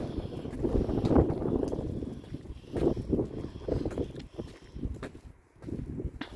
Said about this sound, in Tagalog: malakas ang hangin. Madidinig naman dito sa sa video.